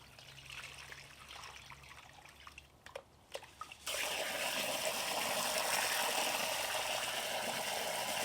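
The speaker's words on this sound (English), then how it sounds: "just pour this top layer off." Water trickles and drips from a pan of pay dirt, then a sudden steady pour starts as the top layer of water is tipped off, continuing loudly to the end.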